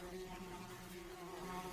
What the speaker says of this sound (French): Une mouche vole ici depuis longtemps